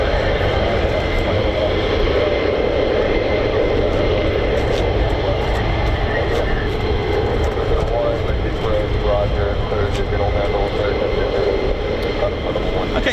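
An F-35A fighter jet engine roars steadily and loudly at RAF Lakenheath, a continuous broad rumble with a voice talking over it.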